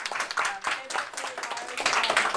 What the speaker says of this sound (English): So let's give everyone a brief round of applause as we get started.